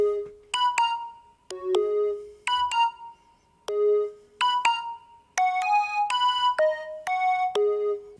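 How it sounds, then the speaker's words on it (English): Omnisphere synth preset Perky Blindness, EQ'd with low and high end cut, plays a bright bell-like melody of short plucked notes in a steady repeating pattern, clean and close with no voices. "the next sound you can hear is this one out of Omnisphere."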